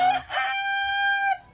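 A rooster crows once at close range, a loud, drawn-out cock-a-doodle-doo with a sustained, ringing final note that cuts off abruptly.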